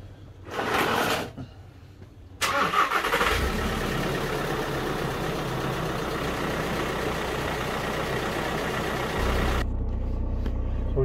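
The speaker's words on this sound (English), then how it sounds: "Just need to keep the engine running for a little while, let it get up to temperature" A VW Crafter van engine cranks briefly, then catches and starts, settling into a steady close idle, with a short clunk near the start and a shift in tone toward the end.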